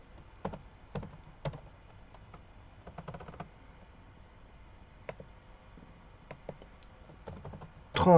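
Irregular bursts of keystrokes on a computer keyboard, close and fairly quiet, with short pauses between clusters of taps and a louder knock at the end.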